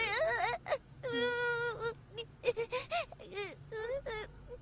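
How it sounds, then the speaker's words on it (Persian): A boy cries loudly and close by in wailing, sobbing bursts with shaky breaths between them. "پسرم گریه نکن، هیچی نشده."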